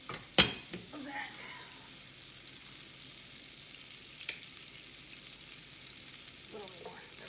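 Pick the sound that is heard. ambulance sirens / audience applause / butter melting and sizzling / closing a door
butter melting and sizzling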